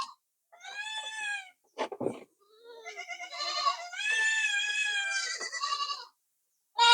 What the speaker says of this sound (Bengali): এই ছাগলটার 4টা বাচ্চা হয়েছে